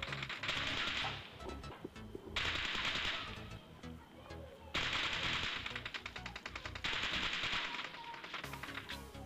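Rapid automatic gunfire in PUBG Mobile during jump-shot practice, loud bursts of rattling shots in several rounds separated by short gaps.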